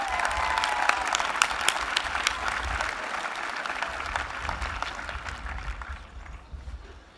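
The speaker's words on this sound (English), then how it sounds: "Please join me in giving them a round of applause." Audience applause at a school of business commencement ceremony, a sustained crowd of clapping hands at steady strength that gradually fades toward the end, no speech over it.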